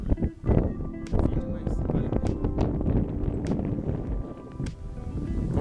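Gusty wind on a Paraná hilltop pounds the microphone, a steady, heavy low rumble with sharp buffeting bursts, near and loud for the whole stretch.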